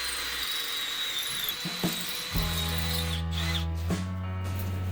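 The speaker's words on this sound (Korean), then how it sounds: "드릴로 표시된 구멍 4개를 뚫어줍니다" Electric drill boring holes into a bathroom wall in a semi-basement bathroom, starting with a brief high whine, then a steady loud motor drone that surges and bites in as the bit cuts, with short pauses between holes.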